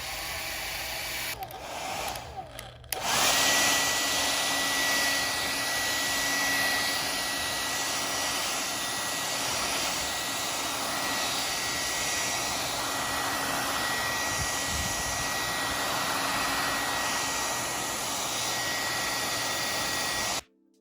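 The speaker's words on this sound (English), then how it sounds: "Alright, so I have my hair dryer here" A hair dryer on its heat setting blows a steady, loud whoosh for about twenty seconds while drying water-damaged Apple AirPods Max headphones. A short handling bump comes at the start, then the motor and airflow hold even until an abrupt cutoff.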